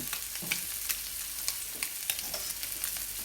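Prawns seasoned with chili and pepper fry in a pan, a continuous bright sizzle broken by repeated small crackles and spatters, close by and without talk.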